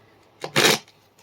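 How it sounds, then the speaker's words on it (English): A deck of cards gets a quick shuffle, a short soft riffle followed by a brief, louder burst of flicking cards lasting about half a second, close up in a quiet room. "I'm just shuffling here."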